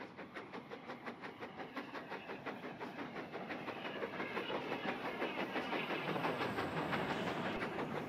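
The Northern Belle luxury Art Deco train rolls along in Train Simulator Classic, with steady rhythmic clickety-clack of wheels over rail joints under a continuous engine rumble that grows slightly louder as it gathers speed.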